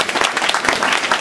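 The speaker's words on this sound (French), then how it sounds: "Donc ce film est fait par un monsieur que je voudrais qu'on applaudisse ici, qui est Stéphane Cross, qui est là" Brief, loud applause from an audience at a talk with author Bernard Werber, many hands clapping in a continuous burst.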